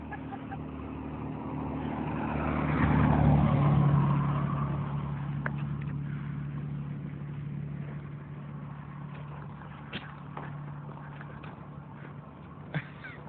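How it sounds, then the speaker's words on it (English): A car passes on a road beside the Appalachian Trail. Its engine swells to a peak and then fades away. Faint and distant, it sits under steady background hum. "When that car goes, you should cross the road."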